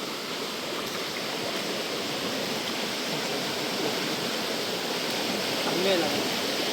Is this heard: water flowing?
yes